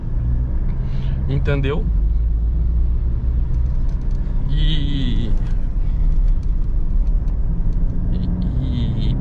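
A 2021 Mitsubishi L200 pickup truck driving, heard from inside as a steady, loud low road rumble and engine hum running throughout, with people talking over it.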